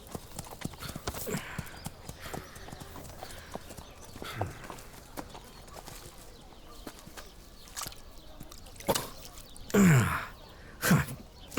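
Hooves of a mare clip-clop at a walk across ground in a period drama scene, a steady string of light knocks throughout, with a horse snorting and blowing loudly toward the end.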